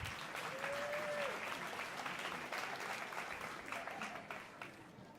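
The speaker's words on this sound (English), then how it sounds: "Can we give Kier and Hala a round of applause?" Audience at an education conference morning session breaks into sustained applause, a dense wash of clapping that holds steady and then tapers slightly toward the end, with a brief whistle early on.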